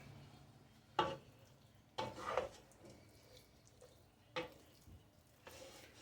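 Ragout sauce being stirred into a dish in a home kitchen, with a few distinct scraping and clinking strokes of a utensil against the pot amid quiet wet stirring, close and fairly soft.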